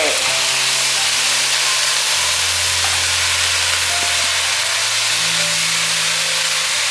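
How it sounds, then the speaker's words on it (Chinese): Taro filling stir-fried in a wok with a splash of water added, giving a loud, continuous hiss and steamy sizzle with low hum tones beneath and a few faint clinks. "大约略炒一下，可以加点水"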